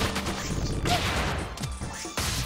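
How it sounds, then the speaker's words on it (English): Explosive bursts and crashing impacts of redirected missiles in the Freedom Planet platform game, loud and dense over a couple of seconds with a sharp hit near the end. "Redirecting these missiles."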